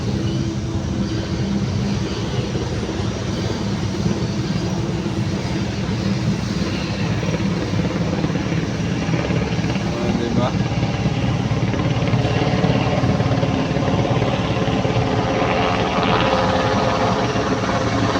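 Helicopter landing at an airfield, a loud steady rotor and engine roar that fills the whole stretch without letup, close by and continuous.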